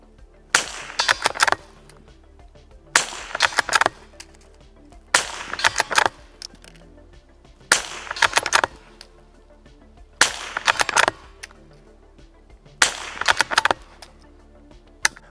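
A Savage Mark II .22 rifle fires at targets in six evenly spaced sharp shots, each cracking loudly nearby with a short echo, separated by pauses of roughly two and a half seconds.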